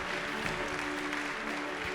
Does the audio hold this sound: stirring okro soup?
no